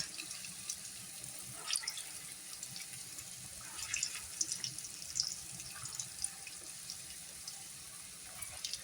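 Vadas deep-frying in plenty of very hot oil give off a steady, faint bubbling hiss with scattered crackles and pops throughout.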